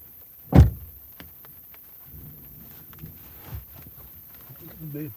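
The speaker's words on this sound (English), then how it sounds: "Let's get that door shut." A car door slams shut with a single close, solid thunk as a storm approaches. After it comes quiet interior rustling, and a voice speaks faintly.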